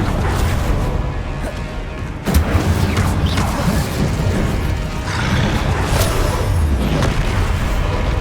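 A fiery Incendio spell erupts in Hogwarts Legacy gameplay with booming blasts and crackling bursts over a dense, loud game soundscape, one sharp hit standing out midway.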